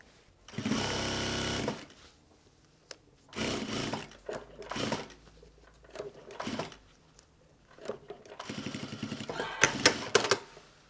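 Domestic sewing machine stitching fabric for a costume garment, running in several bursts of rapid mechanical whirring separated by short pauses, close and fairly loud with no talk.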